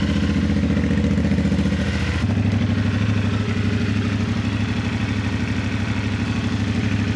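A CFMOTO Ibex 450 motorcycle with a Yoshimura slip-on exhaust idles steadily and loudly while warming up, with a rhythmic low rumble and a slight shift in tone partway through.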